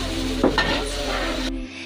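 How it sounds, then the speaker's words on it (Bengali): Vermicelli fries in hot ghee with cardamom, cinnamon and bay leaf, giving a brief, dense, close sizzle with a stirring scrape partway through. "এখন এই যে সেমাইটা দিয়ে ভাজা হইতেছে"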